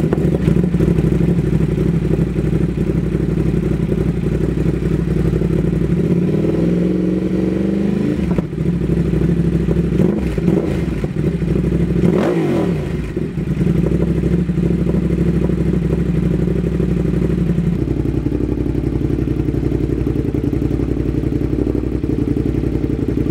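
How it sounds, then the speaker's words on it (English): A Ducati SuperSport S with a 937 engine rumbles through twin exhaust pipes, a loud steady growl with revving swells and dips in the middle, recorded close with no talk. "The 937 SuperSport S motor."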